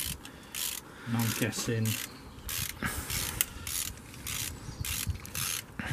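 A ratchet clicks in short bursts as bolts are loosened on the water pump of a Mercedes Vito W639 van with the OM646 engine, close up in a workshop, with someone briefly speaking partway through.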